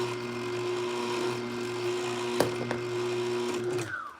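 Juicer grinding lemons, including root and skin: a steady loud motor whine with droning hum, a couple of sharp knocks partway through, then the motor winding down at the end.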